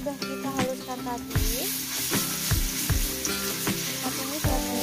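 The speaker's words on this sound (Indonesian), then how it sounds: "Kita goreng bawang putih yang sudah kita haluskan tadi." Mashed garlic sizzles and crackles steadily in hot oil in a pan, close and continuous, with periodic scraping strokes of a utensil stirring through it.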